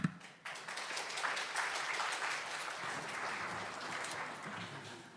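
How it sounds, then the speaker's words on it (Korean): An academic lecture audience breaks into applause to welcome a visiting professor to the stage. The clapping starts abruptly, then settles into a fairly soft, even, continuous wash of many hands. "큰 박수 부탁드립니다."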